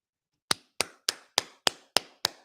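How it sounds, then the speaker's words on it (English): Seven sharp, evenly spaced hand claps ring out alone at a steady rhythm, close and crisp, celebrating a receiver's first start as a Tennessee Vol. "Claps for Chaz Nimrod."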